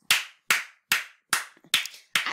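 Hands clapping six times in a slow, even rhythm, each sharp clap close and distinct with a short gap of quiet between.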